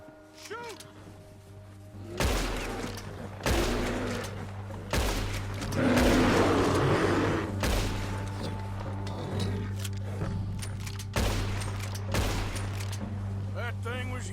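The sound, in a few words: gunshots in video game Red Dead Redemption 2 while hunting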